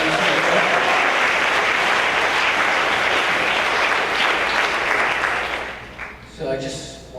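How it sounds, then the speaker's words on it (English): An audience at a meditation gathering breaks into loud, dense applause that holds steady, then fades out near the end as a voice starts speaking. "So give them a round of applause."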